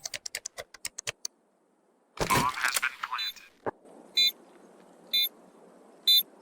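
The old bomb beep in the video game Counter-Strike 2 is a series of three clear, evenly spaced electronic beeps over game background noise. Rapid keyboard-like clicks and a loud crackling burst come before it.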